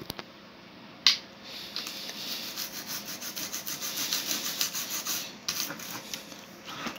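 A small brush scrubbing a dirty mechanical keyboard with alcohol, a continuous close scratchy rubbing with a few sharp clicks, moderately quiet and without talking.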